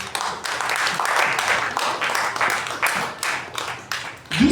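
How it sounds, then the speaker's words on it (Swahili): Congregation in a church breaking into sustained applause, a dense rolling wash of many hands clapping at close range, with a few voices mixed in. "Pigia makofi mazuri."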